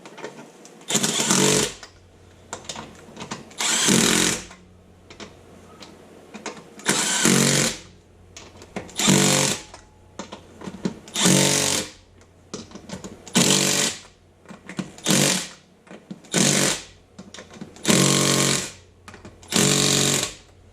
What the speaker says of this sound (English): I'm just going to use my little 12 volt Milwaukee impact just to run these down